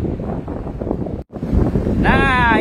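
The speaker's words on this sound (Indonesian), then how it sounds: "Wih, anginnya kenceng banget." Strong night wind buffets an ASUS Zenfone 10 microphone while walking outdoors, a loud rumbling roar with a brief dropout midway, and a voice speaks over the blustering gusts.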